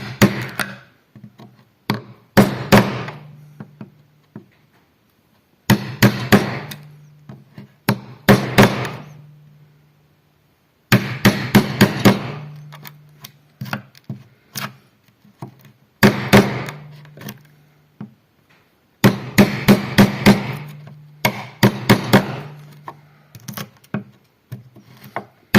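A mallet drives a wood chisel to cut arm holes in a wooden marking gauge: clusters of sharp, close knocks in bursts, with short silent pauses between the groups.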